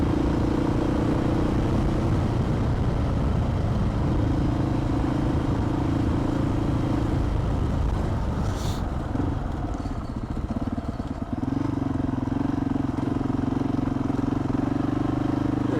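A vehicle drives along a lumpy, muddy dirt road in outback Australia near Charleville, giving a continuous engine drone with bumps and clatter. A brief dip and a rattling jolt come partway through, with no talking over it.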